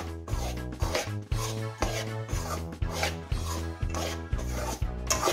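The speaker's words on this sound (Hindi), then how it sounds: "अब ये जल्दी से भून भी जाएगा।" Gram flour (besan) roasts in a pan as a utensil stirs it with close, rhythmic scraping strokes, roughly two per second, each a short rasp against the pan's surface.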